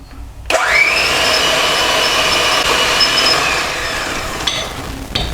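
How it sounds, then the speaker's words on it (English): An electric hand whisk creams softened butter and caster sugar for banana bread batter, a loud, steady motor whine that starts abruptly, runs nearly five seconds close up, then stops with a brief clatter. "So I'm just going to use an electric hand whisk"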